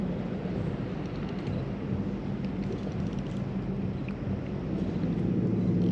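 A loud truck drives away at night beside a riverfront park in Muscatine, Iowa, heard as a low, fairly distant engine rumble that holds steady and then swells slightly. Wind noise sits over it, and no one speaks.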